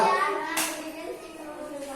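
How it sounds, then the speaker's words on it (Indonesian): Schoolchildren clap together in a primary classroom, a single short burst of applause that fades quickly, with a teacher and children talking around it. "Tepuk tangan tuh 2, 3."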